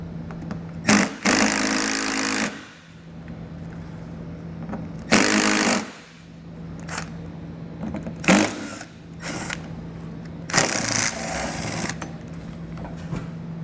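A power driver with a Torx bit spins out bumper fasteners on a 2020 vehicle during a hidden trailer hitch install, running in four loud whirring bursts of a second or so each, separated by quieter gaps of shop background.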